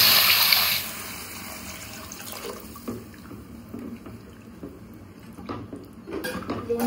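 Water is poured into a cooking pot of Odia khichdi made with ghee and without onion or garlic. A brief close splash and gush comes at the start, followed by quieter kitchen clinks of utensils and pans.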